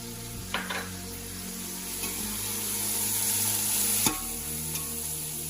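Chopped onions frying with salt in a pan for chicken dum biryani, a loud steady sizzle with a few sharp stirring knocks, including a clear clatter toward the end.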